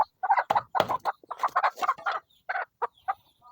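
Native chickens cluck in a run of short, close, bursty calls with brief pauses between them, loud and clear with no talking.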